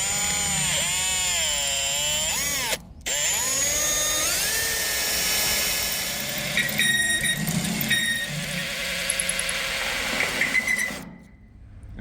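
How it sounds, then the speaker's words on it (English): A power drill bores out a stainless steel bolt, its motor whining steadily and rising and falling in pitch as the bit bites, with a brief pause and rattling bursts before cutting off near the end. "Now I'm going to have to try and drill that bolt out because it does go down inside the pin"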